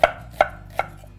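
Fennel being chopped with a knife on a cutting board, four sharp, evenly spaced blade strikes, close and clear, with no voices.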